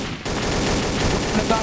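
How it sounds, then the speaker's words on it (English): Rapid, continuous gunfire in a Trouble in Terrorist Town game match, a dense burst of shots filling the clip after a brief quieter start, loud and sustained. "Somebody's shooting in here."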